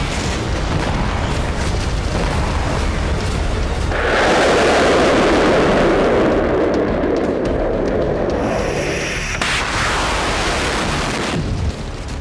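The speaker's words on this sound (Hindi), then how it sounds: "वो धमाके जिनसे यूक्रेन बीते 24 घंटे में दहल उठा है" Explosions from attacks in Ukraine: a sustained, loud roaring blast that swells partway through and then falls off over a rumbling, noisy background, with no talking.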